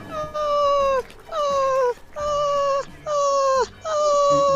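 A person imitates an upset dog whimpering, making five drawn-out, falling whiny cries that are loud, close and evenly spaced, with no other talk.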